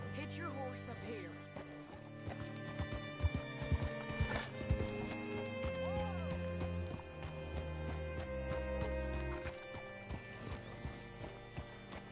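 Horse hooves clip-clop steadily with a whinny partway through, set against a layered musical score and some speech, in the video game Red Dead Redemption 2.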